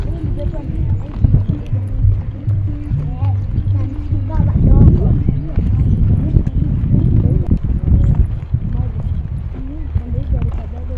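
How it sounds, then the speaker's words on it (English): Horses walk on a path near Thomson's Falls in Nyahururu, Kenya, their hooves clip-clopping in an irregular rhythm at close range, mixed with rumbling outdoor noise and a person talking. "There's some horses."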